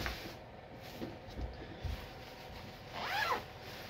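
Zipper on the side pocket of a men's Harvey and Jones jacket, with faint handling rustles first and then one quick, close zip pulled near the end.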